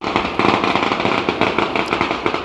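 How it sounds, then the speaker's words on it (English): Firecrackers go off for a funeral in China, a loud, dense barrage of rapid crackling pops that runs on without a break, close by and heard alone. "That's the sound of a firecracker"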